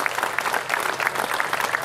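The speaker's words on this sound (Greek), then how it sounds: "ο Άγιος Κασανδρίας κύριος Νικόδημος, ένα χειροκρότημα για την Ιερά Σύνοδο, στο πρόσωπό του." Church gathering applauds the Holy Synod, a brief burst of steady, dense hand clapping from a crowd indoors, with no voices over it.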